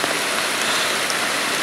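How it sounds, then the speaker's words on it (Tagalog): Heavy rain pours down hard and steadily, a dense, loud hiss of drops drumming on surfaces with no pauses and no voices. "lalong lumakas ang ulan"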